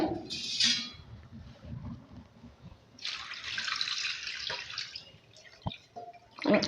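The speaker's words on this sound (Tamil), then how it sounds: "நான் தண்ணி ஊற்றிக்கிடுதேன்" Water is poured into a bowl of prawns in two bursts, splashing and trickling close by with quiet clinks between pours.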